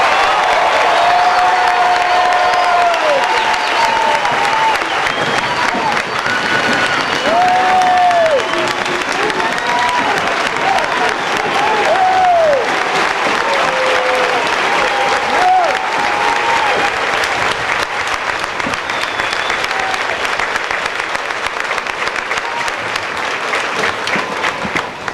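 Loud, sustained crowd applause and cheering outdoors at a 2006 Fort Jackson Army basic training graduation for soldiers of 313 Infantry, a dense steady roar of clapping with a few whoops and whistles throughout.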